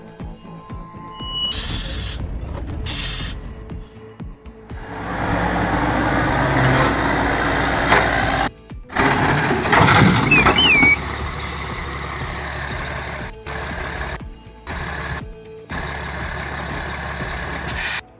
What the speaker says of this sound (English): The left brake failed, and the truck was heading downhill.